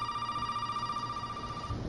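A telephone ringing in the horror video game Resident Evil 7, a steady electronic ring tone sustained throughout, fairly clear against a low background hum.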